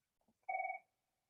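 A telephone bell rings once, a short clear electronic trill heard close and alone in a quiet room after a couple of faint soft sounds.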